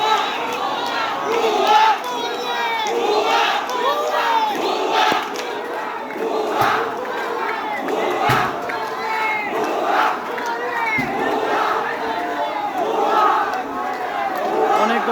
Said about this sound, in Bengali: মিছিলটা আসলে বলে দিচ্ছে যে টাঙ্গালে জেলার এতগুলো ছাত্র একাত্র হয়েছে